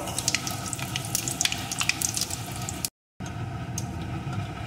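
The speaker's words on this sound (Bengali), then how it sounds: "ফোড়নগুলোকে আমি প্রথমে একটু ভেজে নেব।" Dried red chillies and five-spice tempering fry in hot oil, a steady crackling sizzle with sharp little pops, close and continuous, briefly cut by a moment of silence.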